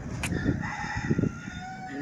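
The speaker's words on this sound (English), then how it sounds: "You see the chickens over there?" Chickens outdoors in Key West cluck and crow nearby, a short rooster call rising over low background chatter and ambient noise.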